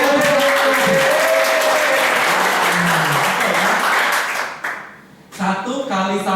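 Audience applause at a lively children's arithmetic quiz event, a dense sustained burst of clapping with some voices mixed in, dipping briefly near the end before resuming.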